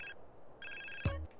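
A cell phone rings inside Grand Theft Auto: San Andreas: two bursts of a bright electronic ringtone with a gap between them, followed by a short low thump near the end, with no talking.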